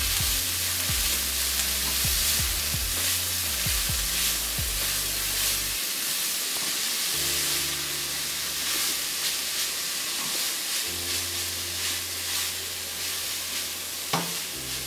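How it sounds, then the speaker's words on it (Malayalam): Spinach thoran with masala stirred in a hot pan: a continuous close sizzle and hiss with intermittent scraping strokes of a spoon, and a brief metallic clink near the end. "ഒന്ന് ഇളക്കി നമുക്ക് അതിൻ്റെ ആ മസാലയൊക്കെ ആ ഇലയിലോട്ടൊന്ന് പിടിക്കുന്ന പോലെ ഒന്ന് ഇളക്കിയെടുക്കുക."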